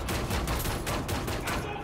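Dense gunfire in the shooter game Wolfenstein: The New Order, a steady barrage of overlapping shots and bursts lasting throughout, loud and close with game noise but no speech.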